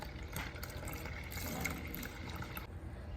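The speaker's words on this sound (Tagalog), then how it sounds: "Lagyan ko lang siya ng konting water" A little water poured into a homemade ice cream mixture, a faint, soft trickling splash heard close up in a quiet kitchen.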